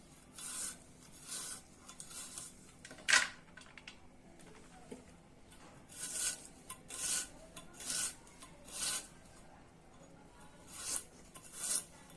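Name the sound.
rubbing chili by hand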